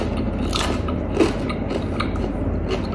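Crispy Richeese fried flying chicken being bitten into close up: a few crunchy, crackling bites and chewing over a steady, noisy background, with no voice during the bite.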